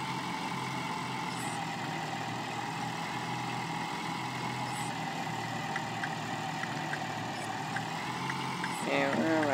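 A school bus engine in the Roblox game School Bus Simulator, a steady droning hum that holds at an even level throughout, with a brief change in the final second.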